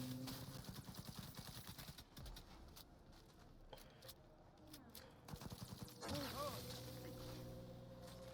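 Rapid bursts of gunfire from the video game Cyberpunk 2077, with dense shots through the first two seconds and scattered shots after, along with game effects and a music bed.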